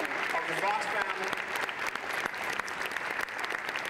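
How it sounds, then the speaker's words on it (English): Audience applause fills a K9 honor ceremony, steady dense clapping held for the whole stretch with a voice speaking faintly over it. "How about a big round of applause?"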